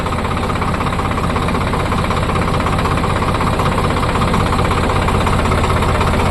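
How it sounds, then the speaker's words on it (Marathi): A vehicle engine, just shifted into gear, runs loud and close with a steady throbbing rumble that holds at a constant level, with no pauses or voices. "आपला गेअर पाडेलच आणि आता रेस करू आणि जाऊ देऊ"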